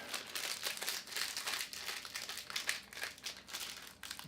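Close crinkling and tearing of an Aussie Bodies protein bar's plastic wrapper as it is ripped open by hand, a steady run of crisp, crackly rustles lasting several seconds with no talking.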